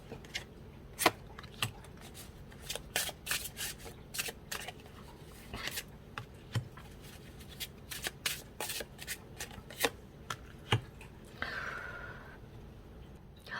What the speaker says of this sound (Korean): 추가 카드를 조금 뽑아보도록 할게요